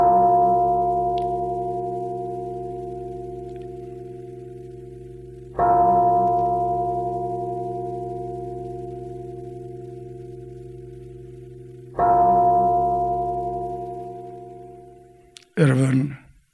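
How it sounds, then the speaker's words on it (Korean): A large church bell struck three times at slow, even intervals, each deep ringing tone sustaining and fading before the next, played alone during a Sunday sermon, followed by a brief clatter at the end. "그래서 제가 종소리를 준비했어요"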